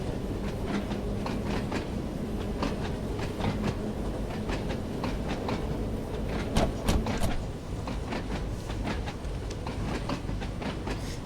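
A Class 483 electric train runs along the Isle of Wight line in Train Sim World 2, its wheels beating a steady clickety-clack over rail joints under a continuous low rumble, with a few sharper knocks partway through.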